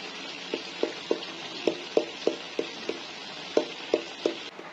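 Fish seasoned with salt and cumin fries in a pan: a soft, steady sizzle under a regular series of sharp taps, roughly a dozen evenly spaced knocks with a brief pause in the middle.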